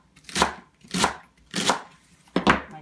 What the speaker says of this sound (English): I can just chop through that just like I would the onion